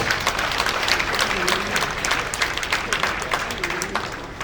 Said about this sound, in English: I think Otumba Kehinde Almoruf deserves a round of applause